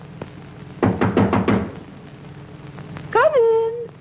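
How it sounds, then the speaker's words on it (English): Four quick raps on a door in an old film scene, crisp and evenly spaced, followed by a voice speaking. "Hark! Who knocks?"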